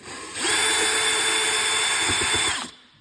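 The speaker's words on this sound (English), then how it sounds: "So take your wrench, unscrew them." A wrench drives screws out while a GGB trail can is being installed. One loud, close motorized whine lasts about two seconds before cutting off, with no voices over it.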